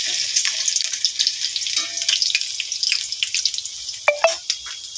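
Potatoes fry in hot oil in a home kitchen, a continuous bright sizzling hiss with scattered crackles and a couple of sharp pops near the end, close up and with no voices.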